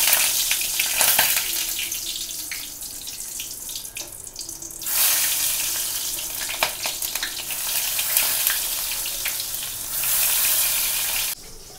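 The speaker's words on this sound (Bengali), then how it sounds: "এখন একটুখানি বেগুন ভাজবো। এই যে কড়াইতে তেল গরম হতে দিয়েছি" Eggplant fries in hot oil in a wok, giving a hissing sizzle that swells and fades in uneven bursts, close and fairly loud, with no voices.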